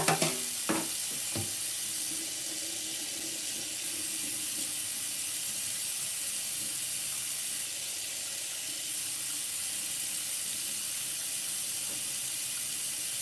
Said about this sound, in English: I'm gonna clean my knife and my fork